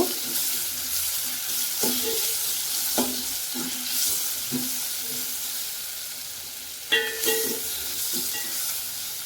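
Onions frying in a pan for puffed-rice uppittu, a soft steady sizzle with occasional stirring scrapes and clatters of a spoon, fairly close, no talking.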